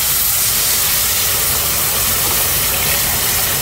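Beef broth poured into a hot pan, a loud, steady, broad hiss of sizzling liquid and steam filling the whole moment with no talk.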